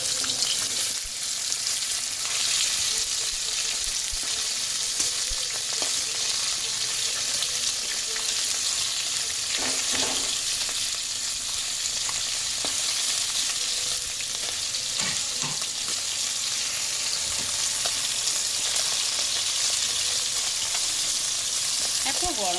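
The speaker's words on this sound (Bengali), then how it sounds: "মাছটা ভাজা হয়ে গেছে এবার আমি তুলে নিচ্ছি" Leta fish crackles and sizzles continuously in hot oil for a long stretch, with a few faint clinks and scrapes of a utensil.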